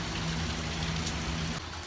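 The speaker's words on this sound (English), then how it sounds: "the rain has slacked off enough" Steady rain falls during a tropical storm from Hurricane Harvey, a constant hiss close by with a low hum running beneath it and no talking.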